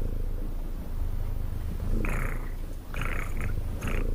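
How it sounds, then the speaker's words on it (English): A domestic cat purring close up with a steady low rumble, broken by a few short bursts of sharper sound near the end. "Hey, that's actual cat noises."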